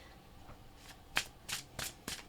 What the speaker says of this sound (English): I'll do that right after I shuffle for the tarot